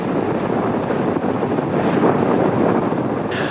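Strong wind buffets the microphone at a catamaran race. It is a loud, steady roar that continues without a break and drowns out everything else.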